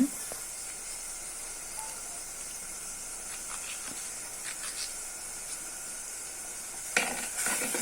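Chopped onions fry and get stirred in a pan for a silver fish curry, giving a faint, steady sizzling hiss with a few soft scraping clatters, the loudest near the end.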